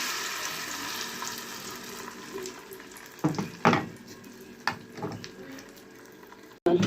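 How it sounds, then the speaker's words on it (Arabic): Eggs frying in butter in a pan give a steady, close sizzling hiss, broken by a few sharp clinks and scrapes of a utensil; no one speaks. "انا قليت البيض خلاص البيضتين"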